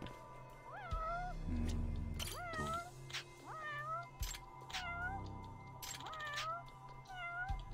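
Video game cat meowing again and again, about six clear, fairly loud cries in an irregular rhythm over a low hum of game ambience and occasional thumps.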